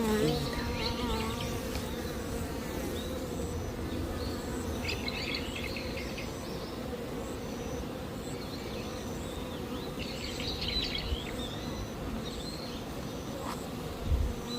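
Dense, steady hum of honeybees buzzing at a hive during an inspection where larvae were pulled from the comb, a loud continuous drone with brief higher whines rising above it, close to the listener throughout.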